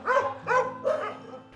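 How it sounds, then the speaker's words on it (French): Several dogs bark in short bursts, about three strong barks in quick succession with a fainter fourth, close by inside an animal shelter for distressed dogs in Madagascar. "Tu dois pas beaucoup manquer d'amour ici, hein, avec tous ces chiens."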